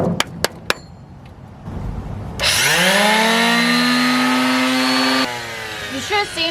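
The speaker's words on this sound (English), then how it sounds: "I'm going to take a hand sander with some 80 grit, no 60 grit, and I'm going to start sanding." A hand sander with coarse 60-grit paper starts up and runs against the metal of a school bus after a few sharp knocks, a loud sustained whine that steps down near the end before brief clatter.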